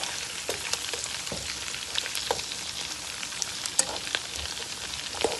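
Oxtail pieces fry in a pan for a Jamaican oxtail dish, giving a steady close sizzle with scattered crackles and a few soft knocks as pieces are moved around.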